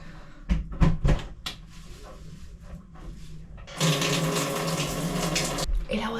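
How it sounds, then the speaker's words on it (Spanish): Aboard a sailboat in the Caribbean, a few clunks and knocks of handling the shower fitting give way to a steady rush of water spraying from the shower head, close and continuous. "Y supuestamente de acá ya sale el agua"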